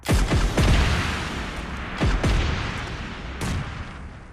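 Bomb explosions in the mobile battle-royale game PUBG Mobile Lite, several heavy booming blasts with rumbling tails, the loudest two early and a fainter one near the end.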